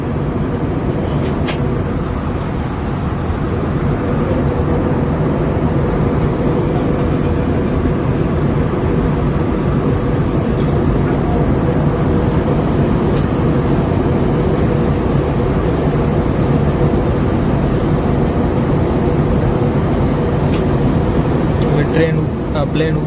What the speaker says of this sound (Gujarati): પ્લેન ઉતરવાની તૈયારીમાં છે